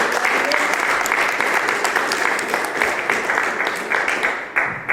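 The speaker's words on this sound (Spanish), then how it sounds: "Denle un fuerte aplauso al Rey." Loud applause from a large church congregation, rapid dense clapping that thins out briefly near the end.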